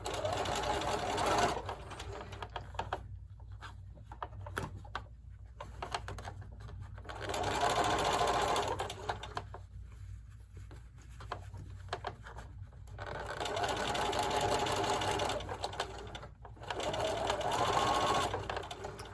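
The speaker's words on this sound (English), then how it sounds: "we're sewing that nice and closed" A sewing machine stitches a fabric face mask with ear loops closed, whirring in three long runs separated by short pauses, close and clear, with faint talk in the gaps.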